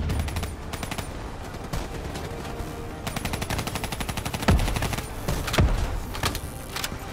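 Heavy weapon and missile fire in Call of Duty Black Ops 3, loud continuous bursts of rapid gunfire with several heavier booming hits, dense battle noise throughout.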